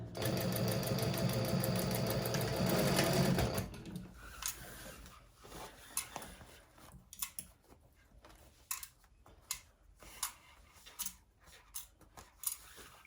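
A sewing machine whirs loudly and steadily through handbag lining for a few seconds, then stops, followed by scattered clicks, rustles and handling knocks of fabric and tools.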